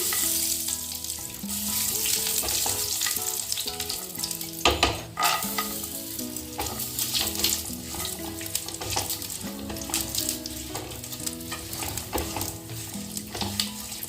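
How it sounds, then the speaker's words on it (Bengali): Whole cumin, mustard seeds, curry leaves and peanuts frying in hot oil, with a steady loud sizzle and crackle and occasional stirring clatter throughout. "তেল গরম হয়ে গেছে ফোড়নে দিয়ে দেবো গোটা জিরে সর্ষে দিয়ে দেবো কারি পাতা দিয়ে দেবো গোটা বাদাম"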